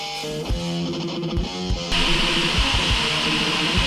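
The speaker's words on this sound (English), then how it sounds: "You can hear the tumbler going in the background," A tumbler runs steadily in a workshop, a continuous rumbling churn behind rhythmic low knocks, the sound shifting brighter and harsher partway through, with no talking.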